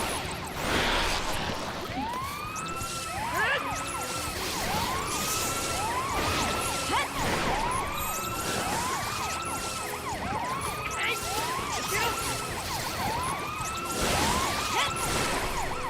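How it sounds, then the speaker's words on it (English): Wailing siren-like cries from enemies in the video game Final Fantasy XIII, many overlapping rising-and-falling whoops repeating steadily for the whole stretch, loud and dense over game noise. "There's so many like sirens."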